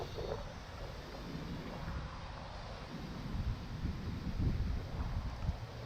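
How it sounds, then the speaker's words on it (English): Steady wind buffets the microphone with a low rumbling roar, swelling slightly toward the end, and no voices. "So it's windy."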